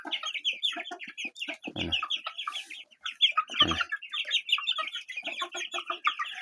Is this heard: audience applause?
no